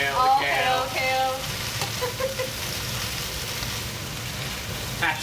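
Cod fillet pan-searing in a hot pan gives a steady, close sizzle of hissing oil, with a brief spatter and muffled movement near the start.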